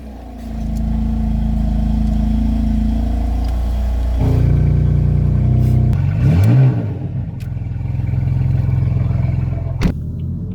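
A BMW E36 fitted with a Guerrilla exhaust drives on public roads, heard from inside: a deep, loud, steady engine drone, a gear change, and a rev rise and fall partway through.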